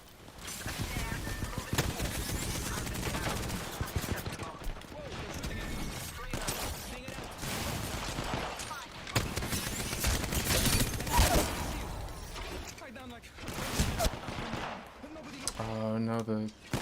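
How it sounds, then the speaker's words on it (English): Gunfire exchange in the battle royale shooter Apex Legends during a ranked match, dense bursts of shots running throughout at moderate level, with people talking over the action. "Taking fire."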